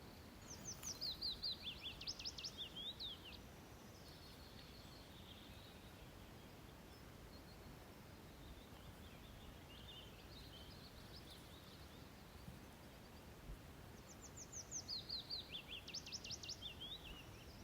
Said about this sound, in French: Je ne sais pas si vous entendez tous les petits oiseaux autour de moi.